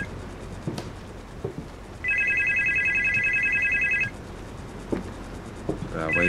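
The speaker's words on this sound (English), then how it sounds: "Alexa, answer the phone." In the horror game Supernormal, a phone rings with one sustained electronic trill lasting about two seconds in the middle, clear and prominent against faint ambient noise, with short knocks and rustles around it.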